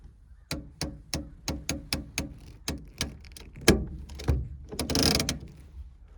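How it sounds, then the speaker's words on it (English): A car's handbrake lever ratchets upward in a long series of sharp, evenly paced mechanical clicks, close and loud, ending with a brief rougher release rasp. "Let's get our classic e-brake click."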